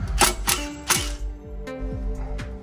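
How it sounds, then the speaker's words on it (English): A Milwaukee mid-torque compact impact wrench rated at 650 foot-pounds works 17 mm bolts during a rear suspension install on a Toyota Sequoia. It gives a few sharp, close bursts, then lighter clicking and ratcheting with a steady motor whine. "This is the mid-torque compact, 650 foot-pounds of torque impact."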